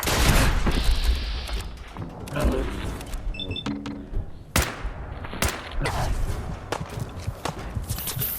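Missile launcher fire in Fallout 4 during a firefight, a string of sharp cracks and thuds spaced irregularly over a busy background of clattering combat noise, several loud impacts standing out near and heavy.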